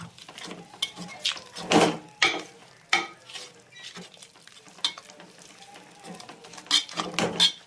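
Ground pepper, turmeric and other spices are stirred together in a bowl for Kerala-style lime pickle, with irregular close scraping and clinking strokes of a spoon, fairly faint.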